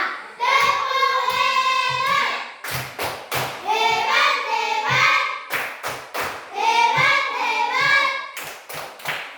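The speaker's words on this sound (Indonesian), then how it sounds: "Kita kasih dulu tepuk hebat" A primary-school class performs a rhythmic cheer clap, with bursts of sharp, loud group claps and thumps punctuating loud chanted children's voices in a repeating pattern, close to the listener in an Indonesian classroom.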